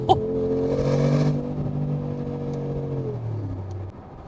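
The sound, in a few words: Brabus G-Class 700HP G63 AMG side exhaust pipes revving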